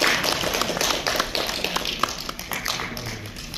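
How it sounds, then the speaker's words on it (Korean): Audience applause at a private museum association general meeting and award ceremony in Korea, steady dense clapping from a nearby crowd of moderate size, with no talk over it. "다시 한번 힘찬 박수로 축하해 주시기 바랍니다."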